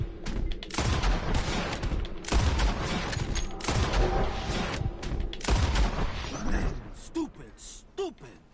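Gunfire in Red Dead Redemption 2 as shots are fired at birds in the sky: several loud, sharp blasts ring out in uneven succession, with voices talking between and over them.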